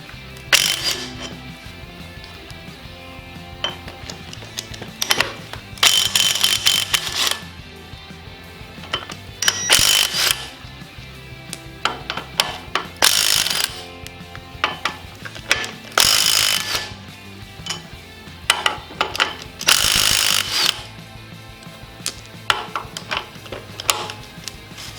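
A ratchet wrench clicks in bursts while loosening the flywheel bolts on a Jeep 4.0L straight-six engine, with bright metallic ratcheting runs separated by quieter pauses and clinks of tools.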